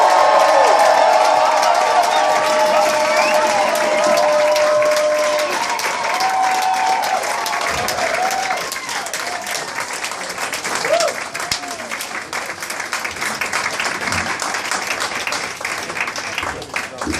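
An audience at the Jazz Cafe in London breaks into loud, sustained applause with cheers and whistles, a dense wash of clapping that keeps going throughout.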